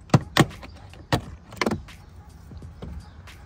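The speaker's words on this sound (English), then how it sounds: "That's done with the plastic pry tool." A plastic pry tool pops clips on a 2022+ Subaru WRX interior side panel, giving a few sharp plastic snaps and clicks followed by softer rattles and handling noise.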